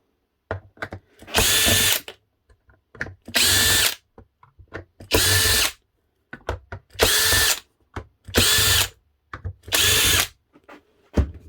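A power screwdriver removes screws from a food mixer in six short bursts of whirring roughly a second long, separated by pauses filled with small clicks and handling noises, close and loud with no talk.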